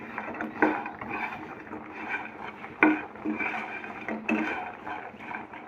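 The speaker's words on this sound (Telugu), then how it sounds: "ఈ మొత్తాన్ని మంచిగా మిక్స్ చేసుకోవాలండి" Idli pieces being stirred and tossed with spices in a pan, a continuous scraping and clatter of a spatula against metal with a few sharper knocks, close and moderately loud.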